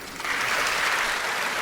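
Audience applause at an award ceremony, a dense, steady wash of clapping from many hands that holds at an even, fairly loud level throughout, with no speech over it.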